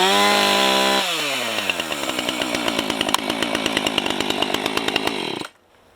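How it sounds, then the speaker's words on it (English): A chainsaw runs loud and close, first a steady low idle, then revving into a rapid buzzing rattle for several seconds before cutting off abruptly. "Next thing you're gonna need is a chainsaw."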